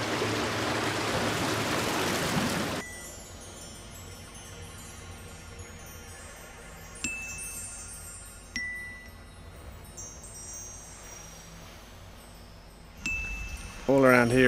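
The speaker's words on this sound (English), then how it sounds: "My only guide was the hypnotic sounds of the waterfall in the distance." Broad rushing water roar at first, then a quieter steady background of flowing water with a few faint clicks and bumps nearby.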